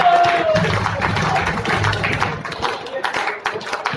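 An audience claps at an event, scattered taps and claps that build into irregular bursts over chatter and a speaker's voice, getting sharper and more distinct toward the end.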